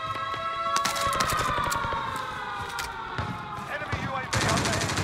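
Rapid gunfire from a weapon in Call of Duty Vanguard rattles loud and close in sustained bursts, with a siren-like tone sweeping beneath and another heavy burst near the end.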